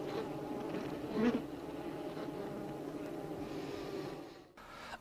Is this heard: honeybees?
yes